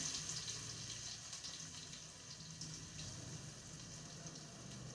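Curry leaves and crushed garlic sizzle in hot oil in a pan, a steady hissing crackle that stays close and even throughout with no talking over it.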